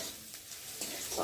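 Garlic and black cumin seeds frying in oil in a pan for a potato dish, a steady soft sizzle with faint stirring scrapes, no voices.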